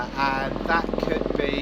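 A helicopter flies overhead, its rotor giving a low, pulsing thrum beneath a person talking close to the microphone throughout.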